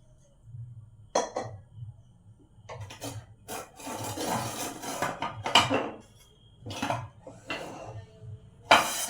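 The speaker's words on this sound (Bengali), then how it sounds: "এবার আমি চন্দনটা বেটে নেব" Sandalwood is ground into paste on a stone at home for a Lakshmi puja, giving quiet, irregular gritty rubbing strokes that come in short bursts with brief pauses between them.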